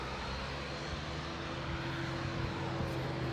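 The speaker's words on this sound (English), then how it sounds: "Another plane taking off." An airplane takes off at Grantley Adams International Airport in Barbados, its engines a loud, steady roar that holds constant throughout, heard from nearby with no talking.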